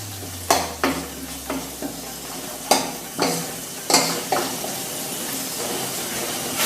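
A spoon stirs butter chicken masala sauce in a hot pan, giving a continuous background sizzle punctuated by about eight distinct scraping strokes at an uneven pace, close and fairly loud.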